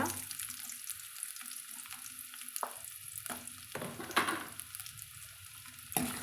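Dried red chillies and small onions fry in oil, a soft steady sizzle broken by several sharp scrapes and clacks of a spoon stirring the pan, close and quiet, with no talking.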